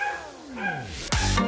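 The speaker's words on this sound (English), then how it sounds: "She's got two puppies." Chow Chow puppy giving short high yips and whimpering barks, a rising cry then a sharper, louder yelp near the end, close by and alone.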